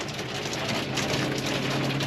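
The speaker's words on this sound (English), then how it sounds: "It's raining." Steady hiss of rain falling over a brush pile burn at a land clearing job, a dense continuous wash with a low rumble beneath, fairly loud and unbroken throughout.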